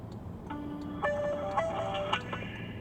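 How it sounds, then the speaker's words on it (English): A phone line ringing while calling AT&T customer service on a BlackBerry, with repeated electronic tones in short bursts over faint background hiss and no talking. "AT&T customer service. It's ringing."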